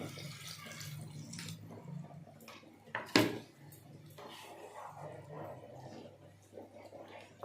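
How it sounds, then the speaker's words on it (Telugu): Masala water poured into a pan of egg curry with melted tomatoes, a quiet trickling pour with one sharp clatter partway through and a soft bubbling afterward, heard close. "ఇప్పుడు మనం మసాలా వాటర్ ఉంచుకున్నాం కదా ఈ వాటర్ని ఇందులో పోసేస్తాం"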